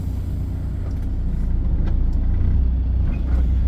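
Semi truck tractor idling and creeping forward from under a parked trailer, a steady low diesel rumble close by with faint clanks, no talking.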